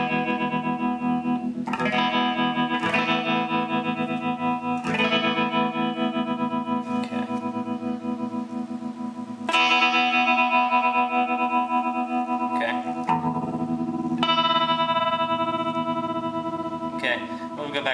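Sustained electric guitar chords pass through a Moog Moogerfooger MF-102 ring modulator, giving a metallic, warbling tone that shifts as the effect speeds up and slows down.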